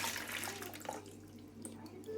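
Brine being poured out of a jar of salted olives, a steady running-water splash lasting throughout with a faint background hum.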